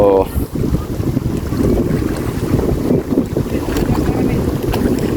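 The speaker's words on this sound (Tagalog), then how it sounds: "Sarap ng simoy ng hangin, no?" A steady sea breeze in Barangay Pinut-an rushes across the microphone, a constant windy roar; a brief voice is heard at the very start.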